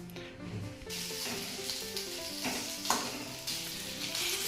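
Potato pieces frying in hot oil for a sabudana fasting dish, a close, continuous crackling sizzle with occasional stirring scrapes and pops, heard alone without talk.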